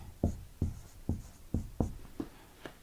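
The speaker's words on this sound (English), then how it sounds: "Write your name. How does it flow off the pen?" Pen strokes scratch across paper as a name is written, seven short separate scrapes in an uneven rhythm, close up and quiet, with no voices.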